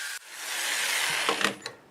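Turned wood with fragile bark being sanded on a spinning lathe at about 400 RPM, a steady broadband hiss and whir that rises after a brief opening dip, with a few scraping bursts near the end.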